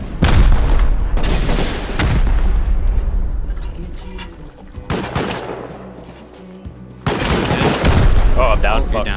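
Bursts of gunfire and booming blasts from a raid on a tower base in the video game Rust, loud and clustered in three heavy volleys with quieter rumbling between them, under excited talk.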